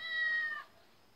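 A single cat meow in the Yokai Watch 2 video game, a short clear synthetic mewing call lasting about half a second, alone and fairly faint against quiet background.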